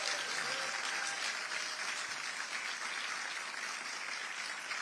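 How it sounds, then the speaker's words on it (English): Steady, dense applause from a large crowd, continuous and fairly even throughout with no voices standing out. "Let's give them all a round of applause."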